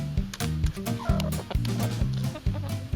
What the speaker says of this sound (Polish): skończcie pokazywać, jak kury jedzą